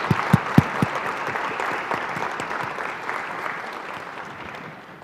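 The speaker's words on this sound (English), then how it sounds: "please give a big round of applause to our panelists" An audience at a U.S.–Japan symposium panel discussion claps steadily for several seconds, a few sharp claps standing out at the start, then gradually thinning and fading.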